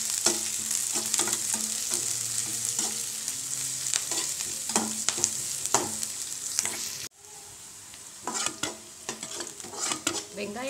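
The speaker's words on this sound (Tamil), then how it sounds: "வெங்காயம் வதங்கிடுச்சு." Onions, green chili and curry leaves sauté in a pan with a constant crackling sizzle and frequent scraping stirs of a spatula, briefly cut off partway through before the frying noise resumes.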